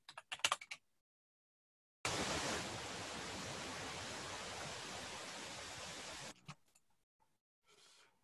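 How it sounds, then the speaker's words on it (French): Pink noise played through a speaker for sound-level measurement, a steady broadband hiss lasting about four seconds with silence before and after, framed by brief bits of speech. "je vais diffuser un son extrêmement froid, voilà, qu'on appelle un bruit rose, mais qui sert beaucoup dans les mesures"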